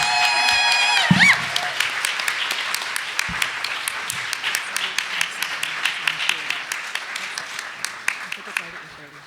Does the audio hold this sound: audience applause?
yes